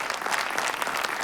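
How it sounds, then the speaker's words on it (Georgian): A short, bright burst of audience applause: dense, crackling clapping at full strength for about a second. "აპლოდისმენტები"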